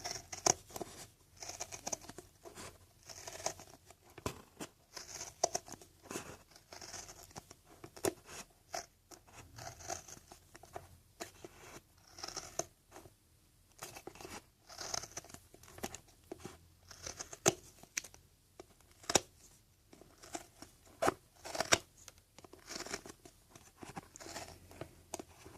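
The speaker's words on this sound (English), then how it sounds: "you're going to get your Tim Holtz scissors" Tim Holtz scissors cutting paper during a steampunk hat craft project, giving repeated crisp snips and rustling paper crinkles at a quiet, close level, with irregular bursts spread across a long stretch.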